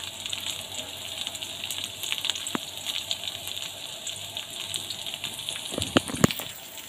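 Red and then white onions hit hot oil in a pan for squid adobo, giving a steady faint sizzle and hiss with a few sharp crackles and clinks near the end.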